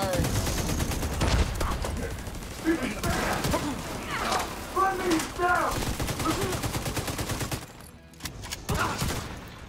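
Bursts of gunfire in a The Division 2: Warlords of New York cutscene aboard a ferry, with rapid shots overlapping shouted voices and battle noise before a brief lull near the end.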